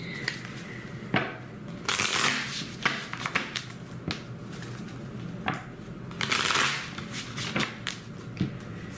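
Tarot cards shuffled by hand: a run of crisp riffling and slapping bursts, several separate shuffles spread across the stretch, close and fairly clear with only faint background.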